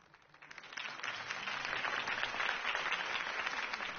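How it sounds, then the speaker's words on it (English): A video game crowd's applause swells up within the first half second and holds steady, a dense wash of many hands clapping at moderate distance, from Batman: The Telltale Series. "could have heard that applause"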